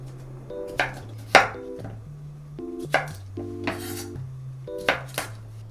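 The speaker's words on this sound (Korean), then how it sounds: "오이를 길이 봐서 이렇게 4등분 하신 다음에 요거를 이렇게 잘라서" A knife cutting cucumber into pieces on a board: a series of crisp, close chops at an uneven pace, each a short sharp knock, over a soft background tone with no talking.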